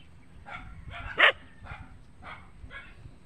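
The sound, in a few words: dog barking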